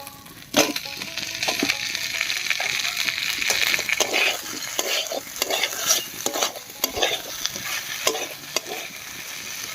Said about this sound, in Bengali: এবার এর মধ্যে দেব ভেজে রাখা আলু আর পেঁপে।